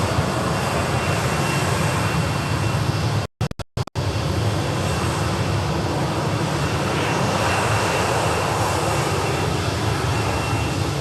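Aircraft taxiing along a taxiway toward runway 16 left at Sydney Airport, a continuous loud engine roar heard from nearby, broken by a brief dropout partway through.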